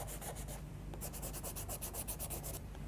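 Charcoal pencil shading on drawing paper, a steady run of close, soft rubbing strokes in quick repeated bursts with no talk.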